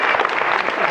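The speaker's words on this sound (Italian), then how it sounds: "A questo punto un grosso applauso" Studio audience applause on a 1985 Italian television show, a dense, loud, even wash of clapping filling the whole moment with no voices on top.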